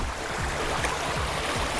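Fast-moving river current in northern Maine, a steady broadband rush of flowing water, close and even throughout the short stretch, with no voices.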